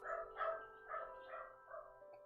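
A dog gives a quick run of about five short, tonal yipping barks, evenly spaced and fairly faint, with no speech over them.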